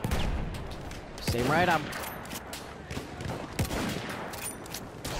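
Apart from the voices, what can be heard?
sniper rifle gunshots in video game Battlefield 1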